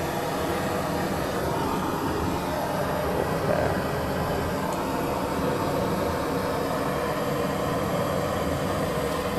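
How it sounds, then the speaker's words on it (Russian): Jet burner torch roaring as it lights a hand-carved fireplace in Saint Petersburg, a dense steady rushing roar that holds loud and even from start to finish. "Реактивная горелочка."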